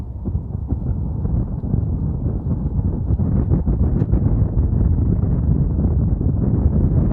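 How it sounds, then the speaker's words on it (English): Steady gusting wind buffets the microphone on a high pedestrian walkway bridge over the Hudson River in Poughkeepsie, a continuous loud low rumble with no pauses and no voices. "Gosh, it's getting windy up here."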